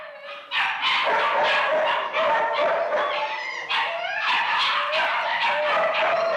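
Several dogs bark, yip and whimper in a kennel room in a 1957 CBS Radio Workshop drama, a loud and overlapping chorus of barks that runs the whole time.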